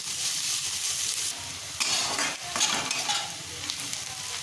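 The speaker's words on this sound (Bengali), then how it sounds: "পেঁয়াজ কুচিগুলো লালচে করে ভাজলাম।" Chopped onions sizzle steadily in a pan as a spatula stirs them, with scraping strokes and brief bursts of louder frying heard up close.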